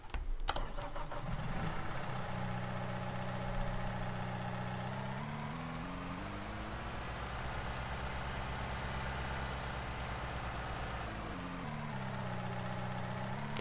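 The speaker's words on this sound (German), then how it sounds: "Der Motor, der läuft auch nicht mehr ganz rund." In Farming Simulator 19, a farm machine's engine cranks and starts with a sharp burst, then settles into a steady, slightly uneven rough running drone that holds on alone.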